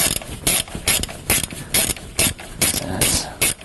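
Ratchet wrench clicking in several short bursts as the sump plug is loosened on a Range Rover P38 with the 4.6 petrol V8, a close, loud, rhythmic series of pawl clicks with brief pauses between strokes.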